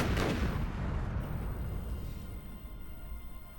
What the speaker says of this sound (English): From the northwest we hear a huge explosion